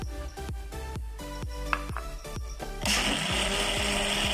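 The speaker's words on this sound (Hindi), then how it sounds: "अब हम इसको ग्राइंड करते हैं। हम इसमें पत्तियां डालेंगे फूलों की, गुलाब की जो हमने लेके रखी हुई हैं धोकर।" A kitchen blender grinds pomegranate with rose petals. It runs in a rapid pulsing whir of repeated motor surges, then shifts into a louder, steadier grinding roar partway through, close and without speech.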